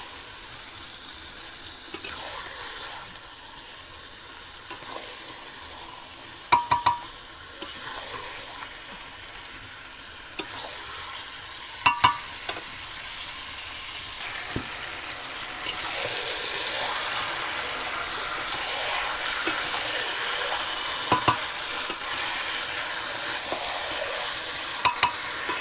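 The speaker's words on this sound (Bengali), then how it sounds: "মাংসটা সব দিয়ে দিলাম, এবার আমি আস্তে আস্তে এটা কষিয়ে নেব।" Chicken meat stir-fried in spiced oil in a village kitchen, with a steady bright sizzle and scattered sharp clatters of stirring throughout.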